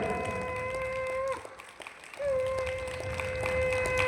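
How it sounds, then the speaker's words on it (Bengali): A crowd claps loudly at a school prize-giving ceremony for a best teacher award, dense applause blended with a sustained horn-like tone that cuts out briefly midway and then returns. "জোরে হাততালি"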